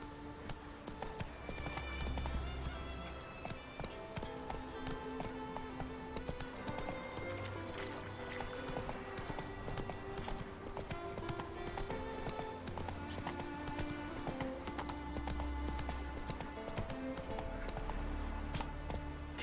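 A horse gallops in The Witcher 3: Wild Hunt, steady rhythmic hoofbeats clip-clopping throughout, with low thuds and an occasional whinny under game music and ambience.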